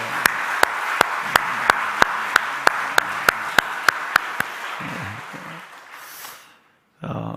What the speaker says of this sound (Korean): 우리 집사님에게 축복의 박수 드리겠습니다.